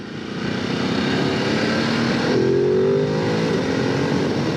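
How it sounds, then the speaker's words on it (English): A 2022 Ducati Desert X motorcycle engine revs hard and steadily, a loud continuous roar with a rising pitch partway through, heard alone without voices. "You know it's a Ducati when it revs out"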